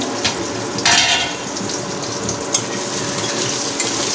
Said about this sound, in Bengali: 5 মিনিট এটা ভেজে নেব।